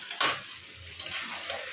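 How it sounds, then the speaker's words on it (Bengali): Mutton curry with potatoes and papaya pieces being sautéed and stirred in a pan, with brief scraping stirs and a soft, steady sizzle underneath, no talking. "এভাবে আমি এখন 10 মিনিট মাংসটাকে কষিয়ে নেব।"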